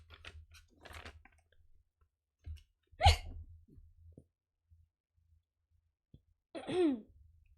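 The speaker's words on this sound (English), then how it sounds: "Hiccups." A person hiccups a few times close up: sudden, sharp catches spaced seconds apart, with small breathy throat noises and near silence between them.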